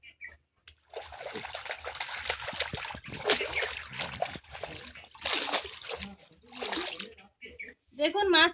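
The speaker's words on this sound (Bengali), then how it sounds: "ভালো করে ঘষে ঘষে ধুতে হবে।" Live stinging catfish (shingi) rubbed and scrubbed by hand in water to strip off the slime, giving close trickling, splashing and sloshing in uneven bursts while a person talks over it.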